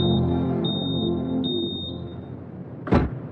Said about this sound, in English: When the smoke alarm sounds from the food starting to burn